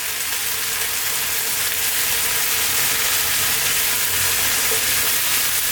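Vegetable curry with chili, cumin, coriander and turmeric powders sizzles loudly and evenly in the pan as it is stirred, a dense continuous frying hiss with no talk.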